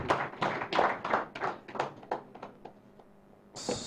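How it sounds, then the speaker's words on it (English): Scattered, moderate clapping from a small audience after a presentation at a Uganda transparency capacity-building project event, a few distinct claps tapering off before a brief noise at the end. "Give her a round of applause, please."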